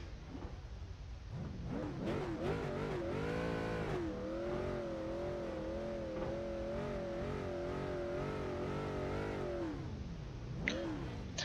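Race car engines in the iRacing game, a loud, continuous engine whine that rises through the revs, holds a steady wavering pitch, then drops and climbs again near the end.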